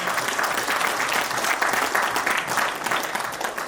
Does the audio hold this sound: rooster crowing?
no